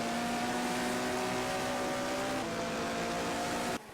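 Race cars in a racing video game at the Mount Panorama circuit, a steady sustained engine drone with harmonic whine held loud and close for nearly four seconds before cutting off abruptly near the end.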